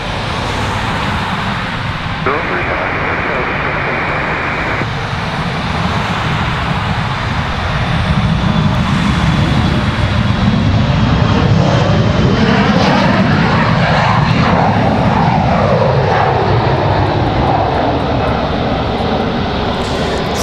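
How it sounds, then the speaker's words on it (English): An Embraer E-175 jet departs Raleigh-Durham airport, its engines a loud sustained roar that swells and shifts in pitch as it passes, then holds steady and distant. "E-175 about to depart."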